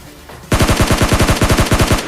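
Rapid automatic gunfire from PUBG Mobile Lite erupts after a brief quiet lead-in, about fourteen loud, evenly spaced shots in one sustained burst, close and punchy.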